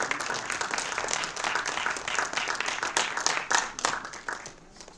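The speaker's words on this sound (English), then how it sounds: "let us welcome Professor Zahid Raza to deliver the welcome address with a huge round of applause" An audience at a faculty development program claps to welcome a speaker, distinct hand claps blending into moderate applause that gradually tapers off toward the close, with no one talking.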